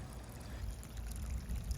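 Water drains steadily out of a drainage pipe at a house, a low continuous trickling pour that holds at a moderate level throughout with no voices.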